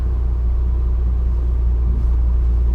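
Bentley GT twin turbo V12 with mechanical damage, shifted into drive and creeping forward: a steady low idle rumble, close and continuous, without revving.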